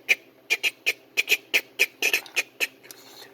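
A voice imitates the gear teeth of a Honda VF700 transmission grinding and rattling: about a dozen short, sharp clicks in a quick, uneven rhythm, close and clear, with nothing else under them.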